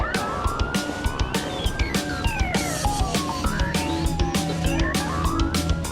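UK police car siren wailing loudly and up close, its rising and falling tone sweeping steadily over rhythmic engine and road noise.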